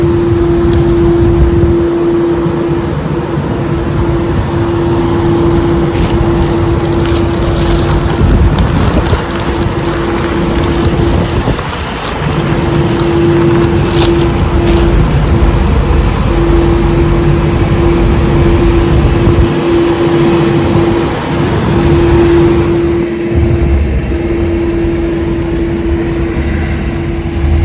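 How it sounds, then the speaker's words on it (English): Steady rumble of passing traffic fills the clip, with a FedEx delivery truck and a street sweeper droning by close, a constant hum running throughout. "Sorry about the noise. It's like a FedEx truck just drove by, a street sweeper just drove by"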